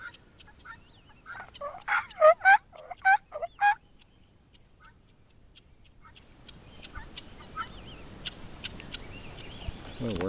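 Guinea fowl calling on a farm pasture with chickens, a burst of loud, rapid, harsh cackling notes close by, then fading into quieter scattered calls and open outdoor background.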